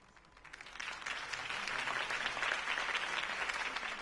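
Crowd applause after Harvey Dent's campaign speech, a broad swell of many hands clapping that starts softer, builds within the first second, and then holds steady and full, fairly distant in a large room.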